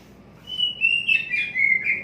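An oriental magpie-robin (kacer) gives a brief, clear run of whistled chirps, close and alone over a quiet background.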